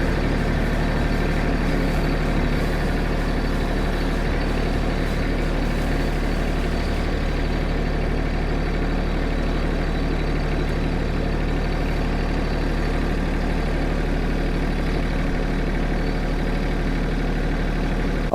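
A Mahindra sub compact tractor engine idles steadily nearby, a constant low diesel rumble with even mechanical drone and no change in pace from start to finish.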